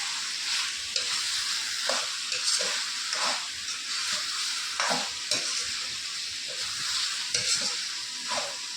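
Chicken fries in ghee with steady, loud sizzling as it is stirred, and a spoon or spatula scrapes the pan in repeated strokes at close range. No one speaks.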